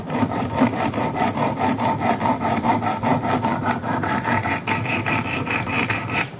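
Knife blade being sharpened on 80 grit Wicked Edge stones, a Kershaw Skyline drawn in quick, steady rhythmic strokes that produce a repeated gritty rasping, close and loud.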